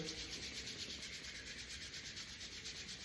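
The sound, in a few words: hands rubbing palms together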